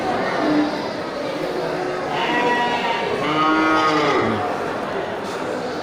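Goats bleat amid the crowd at Pasar Hewan Gelompang Payung, an Indonesian goat market, with several overlapping wavering calls rising over a steady hubbub of people talking nearby.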